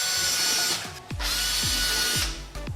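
A power drill drives screws into a wooden frame, several short whirring bursts with the motor winding down between them, close and loud, no speech.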